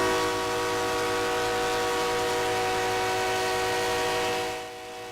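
A train horn blows long and steady near the tracks in Crystal with a rumbling engine beneath, loud and close for several seconds before fading at the end.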